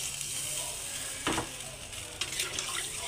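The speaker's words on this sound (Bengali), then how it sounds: "তো আমি 1 মগের মতো জল অ্যাড করছি এখানে।" About a mug of water poured into a pan of frying vegetables and spices for a rohu fish curry with potato and karkul, steady sizzle broken by a sharp hissing burst and a few splashy surges as the water hits.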